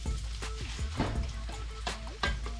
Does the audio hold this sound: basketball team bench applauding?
no